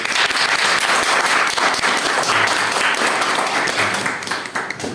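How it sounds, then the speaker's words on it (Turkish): Wedding guests giving the couple a strong round of applause at a civil marriage ceremony, a dense, loud, continuous wall of clapping that eases slightly at the end. "kıymetli misafirlerimizden çiftimizin çıktığı bu hayat yolculuğu için kuvvetli bir alkış rica ediyorum"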